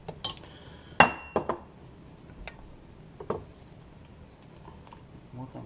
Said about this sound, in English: Work on stirring all that together